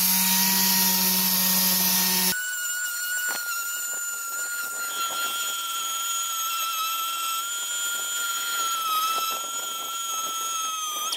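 Body filler on a car sill is sanded with fresh sandpaper on a power sander, giving a steady high whining drone with scratchy grinding against the surface, preceded by a brief louder burst.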